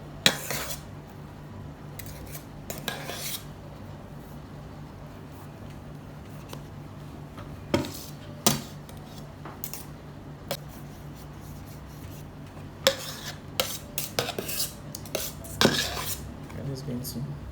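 A long palette knife scrapes and taps against a large birthday cake and its stand while coating the icing, giving scattered clinks and short metallic scrapes over a quiet, steady background.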